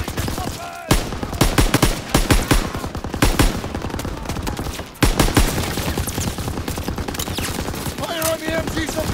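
Gunfire from Call of Duty: WW2 during an assault on a machine gun position at Hill 493, sustained bursts and rapid shots layered with battle noise and shouted voices throughout.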